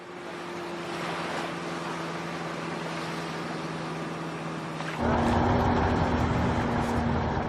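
Modern motorboats used by Inuit whale hunters rumble with a steady engine drone over water and wind, the noise stepping up louder and rougher partway through as the boat speeds up.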